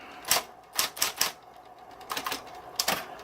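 A Smith Corona Coronet XL Coronamatic electric typewriter typing in short bursts, sharp mechanical key strikes clattering close and loud in irregular clusters with brief pauses between.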